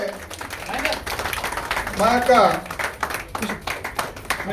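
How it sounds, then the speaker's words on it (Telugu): A crowd claps at a temple event, with a burst of applause building under someone speaking over a loudspeaker. "నీ చేతులు కట్టుకుని నిలబడగలవది చప్పట్లు కొట్టాలి మన చప్పట్లే"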